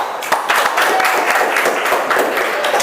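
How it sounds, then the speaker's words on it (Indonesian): Students applauding in a school classroom after a presentation in an Islamic jurisprudence lesson, a burst of many hands clapping with distinct sharp claps, close and lively, sustained to the end. "tepuk tangan"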